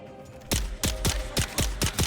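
Starting pistol firing in Dune: Awakening, about seven loud, close shots in a quick, slightly uneven rhythm, each with a short decay, no talk over them.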